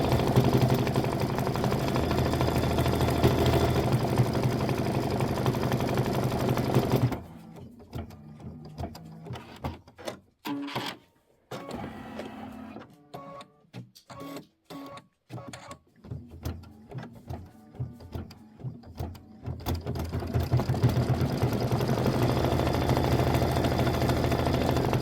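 An embroidery machine stitching a small quilt design, running in steady whirring bursts with a rapid choppy stretch in the middle before the continuous hum resumes, close and fairly loud, with no talking.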